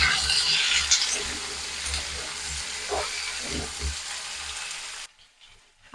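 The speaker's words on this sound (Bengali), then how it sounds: "সবগুলো দিয়ে দিয়েছি, আর একটু ভালো করে নেড়ে দেবো" Pumpkin and potato pieces fry in oil in a pan while being stirred, a steady close sizzle with soft scraping that stops abruptly near the end.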